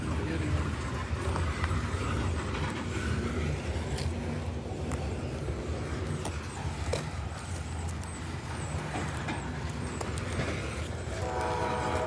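A freight train sounding its horn at a crossing, a loud sustained blast over the rumble of passing cars, with people talking nearby.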